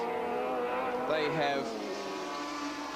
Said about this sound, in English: that little screaming, burbling, crackling Mazda behind them